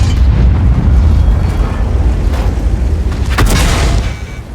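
A heavy SU-152 tank gun firing in World of Tanks: a dense, rumbling boom that fills the whole stretch, with a sharper crack near the end as it trails off, loud and close.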